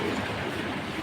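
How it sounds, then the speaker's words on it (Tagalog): Steady rumbling train noise from a passing Manila LRT light rail car bound for Monumento, broad and continuous with no talking. "pakita ko sa inyo po yung LRT"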